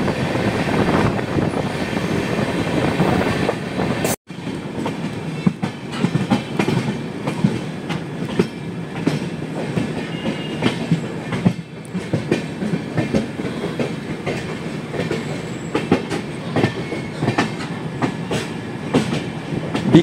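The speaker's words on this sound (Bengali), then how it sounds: "বিকেল 4:43 ট্রেন নাসিক রোড স্টেশন ছেড়ে তার পরবর্তী স্টপেজ ইগাতপুরি স্টেশনের উদ্দেশ্যে" A passenger train pulls out of Nashik Road station and runs on the rails, a loud steady rumble with rhythmic clickety-clack and a brief sharp break early on, with no talking.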